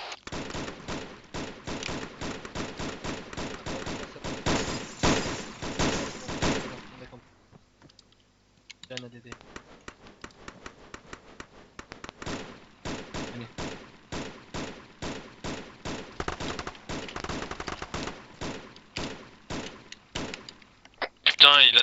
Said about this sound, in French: On vous couvre, fais des tirs de suppresse, Bobby.